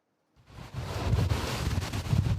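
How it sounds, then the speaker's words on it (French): A strong storm wind rises out of silence in Finistère, buffeting the microphone with a loud, continuous roar that swells and holds steady to the end. "Le vent se fait déjà entendre dans le Finistère."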